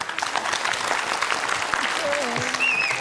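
An audience claps steadily and densely throughout, a loud wash of applause with a few whistles rising near the end.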